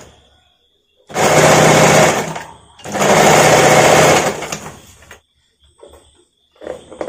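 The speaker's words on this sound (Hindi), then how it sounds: "यहाँ से देखिए हाफ इंच लगा सिलाई करूंगी।" Sewing machine stitching the waistband of a designer padded princess-cut blouse, running in two loud, steady bursts of about two seconds each, then a few faint clicks and handling sounds.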